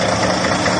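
A newly repaired Mercedes car engine idles close by with a steady, even rumble, heard briefly and on its own.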